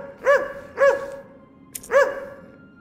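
Dog barking in the point-and-click video game Portal of Evil: three short, clear barks spaced about half a second to a second apart, close and fairly loud with no talk over them.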